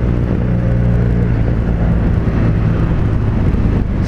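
BMW R nineT Pure motorcycle engine pulling while riding, a loud steady low drone mixed with rushing wind buffeting the microphone throughout.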